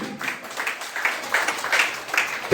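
An audience at a school Hindi quiz quarter-final for class 7 gives sustained, fairly even applause of moderate loudness that runs the whole time as quiz teams are welcomed onto the stage.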